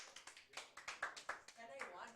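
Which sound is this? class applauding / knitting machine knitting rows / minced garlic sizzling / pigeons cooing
class applauding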